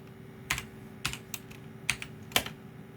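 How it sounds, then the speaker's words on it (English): Slow one-handed typing on a computer keyboard while entering a terminal command for a Raspberry Pi 4, a handful of separate clicky key presses spaced irregularly, close and fairly quiet over a faint hum. "I guess I could type that in with one hand."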